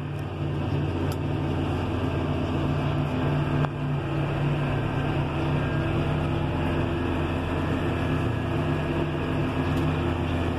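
A John Deere 6140R tractor drives along at around forty kilometres per hour on a rainy day, its engine a steady low drone heard from inside the quiet cab, continuous and even throughout.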